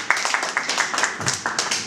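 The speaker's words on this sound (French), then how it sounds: "Est-ce qu'on peut applaudir, s'il vous plaît?" A small audience at a Congolese community gathering claps in a brief round, sharp separate hand strikes in an uneven rhythm, close and moderately loud, with a voice briefly heard over it.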